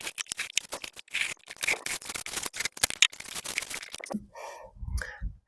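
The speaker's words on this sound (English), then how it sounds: "So let me quickly fight with the tape and then close this guy up." Tape is pulled, torn and pressed to seal a container in a garden seed-starting setup, giving close, irregular rips, crinkles and crunchy handling noises in quick bursts, ending with a few softer rustles.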